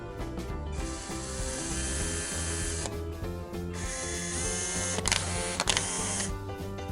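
A LEGO Power Functions motor, driven through an Arduino infrared remote, whirs with a steady mechanical gear drone, its pitch shifting smoothly as it is adjusted, with brief clicks and pauses in between.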